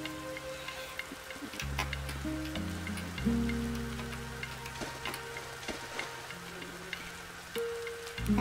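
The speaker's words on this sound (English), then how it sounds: "Nighttime has fallen and the rain is coming down as well." Rain falls steadily through a nighttime scene in a backpacking video game, a soft continuous patter with scattered drops over low sustained game music tones, and no talk.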